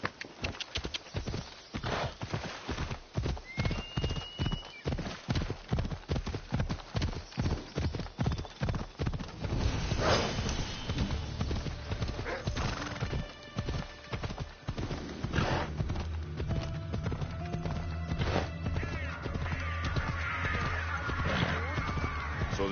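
A horse gallops in Assassin's Creed Odyssey, its hooves striking in a fast, even rhythm up close before giving way to a busier rumble with a brief whinny.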